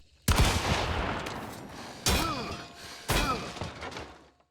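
Three loud, booming blasts from the Romero 77 shotgun in the game Hunt: Showdown, evenly spaced about a second apart, each followed by a long echoing tail with no talking.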